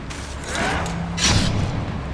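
A Bombarda spell explosion in Hogwarts Legacy, a dull rumbling boom swelling near the middle of the clip and fading into a low, mechanical-sounding rumble.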